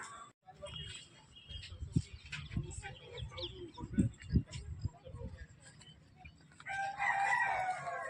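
Chickens on an integrated farm, with loud, near clucking and calls over steady farmyard murmur, and a longer bright call swelling near the end.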